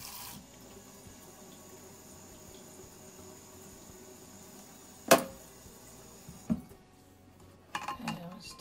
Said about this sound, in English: So we're just going to, again, rinse them gently.